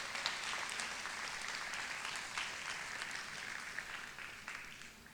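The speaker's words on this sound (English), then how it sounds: "let's give them a big round of applause as our glass team here." A distant audience at a glassblowing guest artist demonstration claps for the arriving glass team, a soft, steady patter of applause with a few sharper individual claps standing out.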